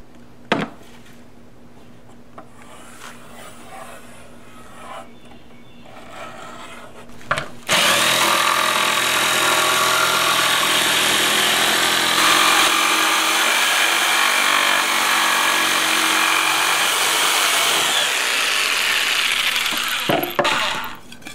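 A power saw cuts through a piece of wood, loud and close, running steadily for about thirteen seconds after a few quieter workshop knocks, then winding down, with no speech.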